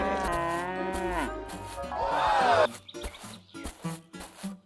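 Cartoon cows moo in long, loud, drawn-out calls, one after another, followed by softer scattered farmyard sounds.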